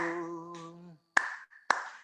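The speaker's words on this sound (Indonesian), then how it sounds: "Dengan tepuk tangan," During a worship song, a held sung note fades out, followed by two sharp, separate hand claps with short gaps of silence between them.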